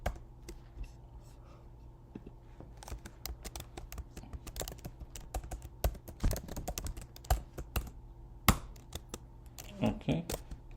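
Someone types on a computer keyboard nearby. Soft keystrokes come in bursts of rapid clicks, with a few louder taps and short pauses.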